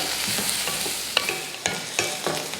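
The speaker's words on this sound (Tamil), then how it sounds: "பாருங்கள், பாவக்காய் எந்த அளவுக்கு வதங்கிட்டு இருக்கு" Bitter gourd sautéing in oil in a pan, with steady sizzling and a few sharp spoon scrapes and clicks as it is stirred, close and alone without talk.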